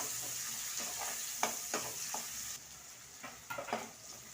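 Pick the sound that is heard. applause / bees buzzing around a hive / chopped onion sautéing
chopped onion sautéing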